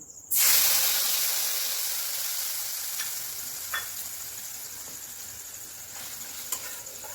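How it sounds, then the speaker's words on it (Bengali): Cumin and asafoetida hit hot oil in a pan with a sudden loud sizzle, then a spice mix is poured in and the frying hiss carries on steadily and slowly fades, with a couple of faint stirring scrapes and no talking. "জিরার হিংটা ভালো করে ভেজে নেব এরপর দিয়ে দেবো মিশ্রিত রাখা ছিল যে মশলাটা ওই মশলা মিশ্রণটা ঢেলে দেবো"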